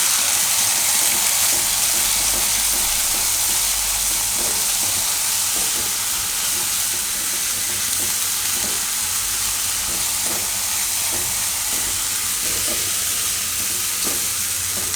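Red chili powder, hot and Kashmiri, stirred into a frying pan with dhania-jeera while making kaju kela nu shaak, giving a steady loud sizzle and hiss with faint scraping stir strokes throughout.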